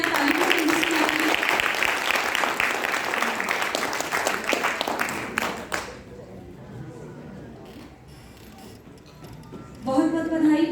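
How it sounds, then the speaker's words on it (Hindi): Audience applause at a cultural function performed by blind artists, a dense wash of clapping for about six seconds, then fading out, with a voice speaking over the quieter stretch and music resuming near the end. "तालियां बजाएं कृपया"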